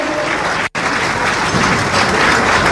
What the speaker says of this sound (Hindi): Ladies and gentleman, please give a big round of applause. तालियों की आवाज गूंजती रहे।